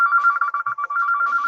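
A phone ringtone chiming close and loud in a rapid, warbling electronic pattern, briefly stuttering before continuing, with no voices over it.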